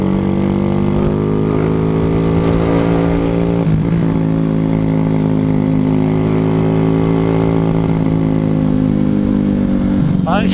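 A Suzuki Shogun SP 125 racing motorcycle on a stock P26 carburetor hums steadily while being ridden, a loud, continuous engine drone with small pitch shifts from throttle changes.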